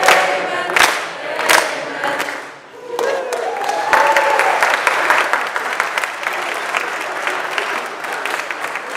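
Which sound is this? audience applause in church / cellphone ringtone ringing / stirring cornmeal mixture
audience applause in church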